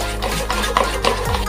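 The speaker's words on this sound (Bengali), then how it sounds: "এটাকে ভালো করে মেশাতে হবে।" A spoon stirs a spiced egg mixture with salt, pepper and roasted spice for omelette chop, giving a few soft scraping and clinking strokes against a bowl, close by, with a low hum underneath.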